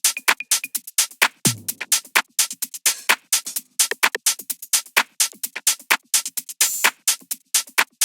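Minimal tech house drum groove built from 606 and 808 kits, a busy, steady pattern of tight repeating hits with one deep kick thump near the start, loud and dry with no voices.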